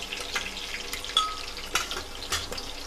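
Vegetables and spices frying in a pan for veg tahari give a steady, close sizzle with a few sharper crackles and pops standing out, and no talk over them.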